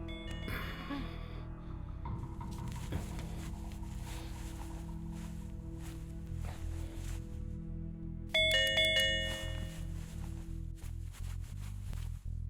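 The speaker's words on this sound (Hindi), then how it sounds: "तेरे घर ये कॉलिंग बेल बजाई, कोई दरवाजा नहीं खोला" A doorbell rings at a house door in a Hindi action drama. Melodic ding-dong chimes sound under a musical score and grow louder in a bright burst near the end, with no talking.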